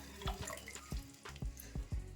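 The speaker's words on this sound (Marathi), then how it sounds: "इथे मी मिक्सरच्याच भांड्यामध्ये पाणी घेतलं आहे आणि ते घालते" Water from a mixer jar is poured into a pot of tomato soup, giving faint splashing and gurgling with soft, irregular glugs over a couple of seconds.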